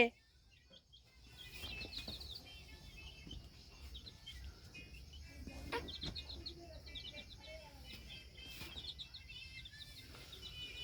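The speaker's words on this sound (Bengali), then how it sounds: "গনু ভাইকে নিয়ে আসো, নিয়ে এসে দেখাও মুরগিগুলো।" Small chicks cheep in short, high, scattered bursts over a faint outdoor background, with occasional louder chirps and a quiet hum throughout; voices of people are not clearly heard.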